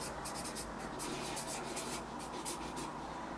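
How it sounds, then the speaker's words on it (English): A pen scratches out a written answer on paper in quick, rhythmic little strokes, close and quiet, with no one speaking. "We'll write down what yours is."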